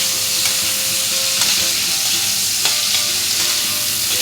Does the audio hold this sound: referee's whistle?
no